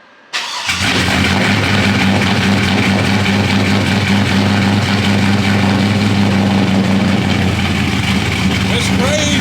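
A Chevy car engine cranks briefly and catches, then settles into a steady, loud, close idle with a constant low rumble for the rest of the time.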